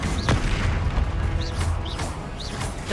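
Repeated booming blasts and crackling bursts of the Confringo fire spell in Hogwarts Legacy, played on PS5, with several sharp pops against dense, loud game noise and no speech.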